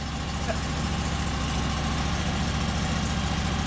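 A Norwood HD36v2 sawmill engine idles steadily while warming up on a cold day, a low, even rumble with constant vibration and no break throughout.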